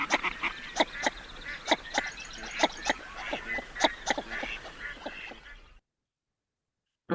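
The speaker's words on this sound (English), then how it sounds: "the northern shoveler, where the males do this kind of suk suk suk suk call" A series of short, nasal male northern shoveler duck calls, a repeated 'suk suk suk', in an irregular rhythm, moderately close, over faint background noise, ending in silence.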